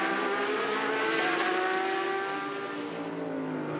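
Race cars at the Bathurst 12 Hour, including a Porsche, roar past on track, the engine note loud and close with shifting revs and a brief sharp burst midway.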